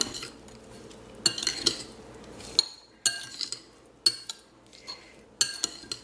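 Utensils clink and scrape against a bowl as seasoned, peppered filling for stuffed bread rolls is mixed, in irregular bursts of metallic taps with short quiet gaps between them.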